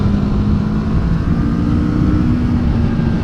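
Kawasaki Vulcan S cruiser motorcycle engine pulling hard under acceleration, a steady loud close-up drone with a strong low rumble and rising tone, continuous for the whole moment with no talk over it.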